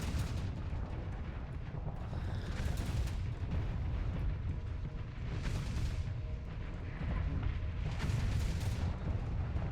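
Deep rumbling blasts from a pirate video game, with three heavy booming swells over a continuous low roar, loud and close with no talk.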